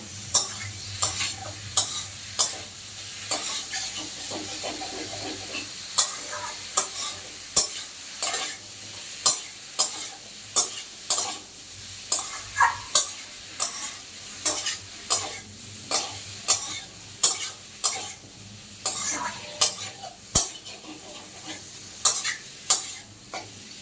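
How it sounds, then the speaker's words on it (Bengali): Boiled jackfruit and prawns sauté with spices in a pan, stirred in a regular rhythm of loud scraping strokes over a continuous close sizzle, one after another for the whole stretch; no voices. "এগুলো ভালো করে মশলার সাথে কষিয়ে নেব"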